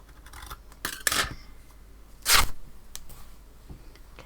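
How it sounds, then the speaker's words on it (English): Fabric for Manx quilting being snipped with scissors and torn by hand: a quiet sharp snip, then a louder brief rip, with faint handling rustles between. "I'll make a little snip and then I'll tear it."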